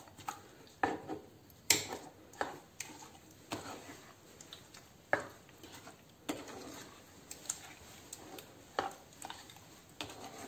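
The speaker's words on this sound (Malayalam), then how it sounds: "പഞ്ചസാര ഇട്ട് നന്നായിട്ട് മിക്സ് ചെയ്യാം." Two spoons of sugar being stirred into pineapple pulissery, a sweet-sour Kerala sadya curry, with a spoon clinking and scraping against the vessel in a quiet, irregular series of taps and clatters.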